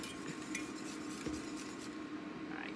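Eggs being whisked into brownie batter for pecan pie brownies, a quiet, steady clatter of a whisk scraping and tapping against a bowl, continuous and close.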